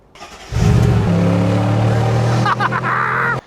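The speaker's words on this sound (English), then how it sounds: "You might be able to hear my G-Class just ticking over in the background." Mercedes G500 G-Class W463 with the M113 engine idles steadily nearby after starting up, a loud, even rumble with a faint whine and a few clicks over it.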